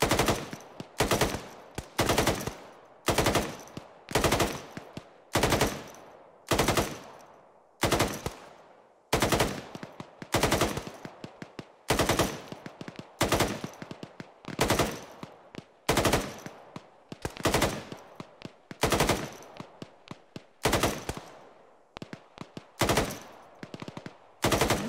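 Machine gun fire in the military video game Arma 3, repeated loud bursts in a steady rhythm of sharp automatic shots with brief gaps between volleys, heard alone.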